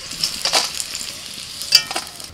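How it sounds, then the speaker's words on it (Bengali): Fried bitter gourd sizzling with potatoes in a pan, moderate hissing crackle with a couple of stirring scrapes, close and fairly quiet. "করলাটা একদম ভেজে নিয়েছি, আবার আলুর সঙ্গে ভাজা হবে।"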